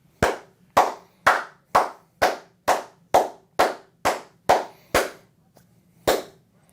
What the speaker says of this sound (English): And I'm going to clap it up to the Duckies.